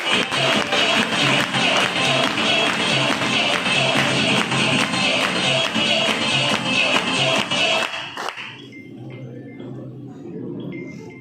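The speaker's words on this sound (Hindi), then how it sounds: "एक बार जोरदार ताली, एक बार जोरदार" An indoor audience at a Hindi-language program claps loudly and steadily for about eight seconds, with dense, even applause filling the room. The clapping then stops abruptly and leaves quiet room tone.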